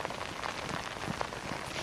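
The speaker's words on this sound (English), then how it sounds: "We've just had another really heavy drop of rain come down upon us now." Heavy rain pours down around a reporter out in a storm, a dense continuous hiss of drops striking surfaces, close and even for the whole short stretch with no speech.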